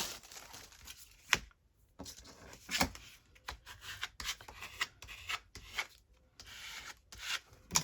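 Paper being smoothed out by hand after trimming for a junk journal, with close rubbing and crinkling strokes in short bursts separated by brief pauses, no talking.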